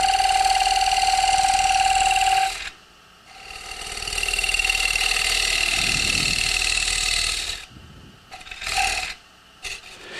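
A wood lathe spins fast while a rosette is turned, producing a steady high whine and rasping tool contact, broken by pauses and short bursts of cutting near the end.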